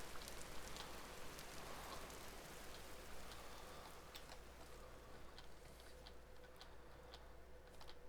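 Rain falls steadily in the survival game Vintage Story, a faint, even patter on surfaces with scattered light ticks and no voices.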